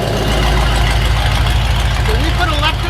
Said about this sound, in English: That's a nice sounding exhaust.